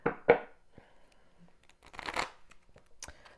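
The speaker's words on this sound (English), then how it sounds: "we're going to get some shuffles in first" A deck of cards being shuffled up close, quick riffling bursts at the start and another longer flutter a couple of seconds later, soft and with no talk.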